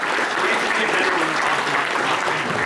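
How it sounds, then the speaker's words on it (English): An audience at a Gamescom Star Wars: The Old Republic Q&A applauds the game's developers, a brief, even wash of clapping from many hands, steady and moderately loud throughout. "please show these guys some love for taking their time away from developing the game"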